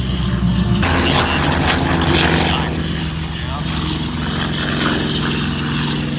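SNJ propeller trainer airplane engine at a Marine Corps air show, a loud, steady droning roar with a rough radial rasp, close and continuous, with a commentator's voice mixed in.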